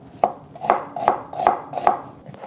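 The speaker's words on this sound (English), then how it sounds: "chopping the onion from top to bottom" Five evenly spaced knife chops on a cutting board, crisp and close, slicing through an onion at a steady rhythm.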